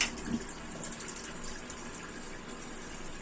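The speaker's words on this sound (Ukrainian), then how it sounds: "Включаємо воду." Water runs steadily from a tap fed by a gas water heater, a constant soft hiss and gush that continues unbroken for a few seconds.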